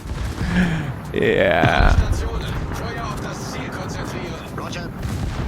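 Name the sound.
Royal Navy battleship 406 mm guns firing, video game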